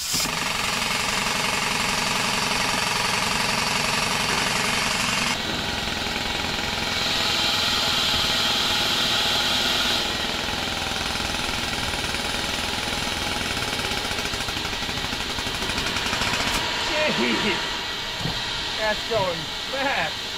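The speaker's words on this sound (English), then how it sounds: "And there's another backfire." A 1970s UltraNautics Wetbike's small engine, after sitting 25 years, runs loud and rough without pause, sputtering with a few sharp backfire pops toward the end.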